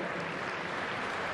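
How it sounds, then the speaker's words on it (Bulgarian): Spectators at a tennis match, the Stockholm Open, applaud a player with a dense, steady wash of clapping from a large crowd that lasts throughout. "Аплодисменти за Краинович"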